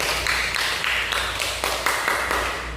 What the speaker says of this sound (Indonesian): Berikan dulu aplaus kepada saudara kita Ahmad Rifai yang telah menyampaikan